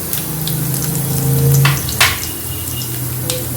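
Asafoetida dropped into hot tempering oil with chili and curry leaves for sev khamani brings a steady close sizzle, with a few light clinks of a utensil against the pan and a brief scrape partway through.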